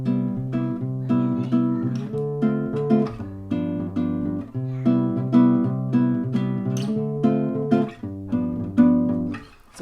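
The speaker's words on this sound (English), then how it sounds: "I have this little bossa nova chord progression that I've been playing with." A bossa nova chord progression played on a keyboard instrument, with syncopated repeating chords over a moving bass line. It sounds close and steady, continuous with no talking.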